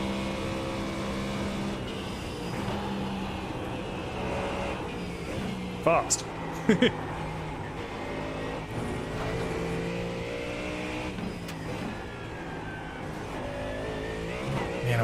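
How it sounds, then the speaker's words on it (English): A GT3 race car in a racing game laps the Nurburgring, its engine droning and shifting pitch through gears, with a few sharp squeals and clunks midway. Someone talks over the engine now and then. "But what else would I prefer to be doing today than driving a GT3 car around Nurburgring?"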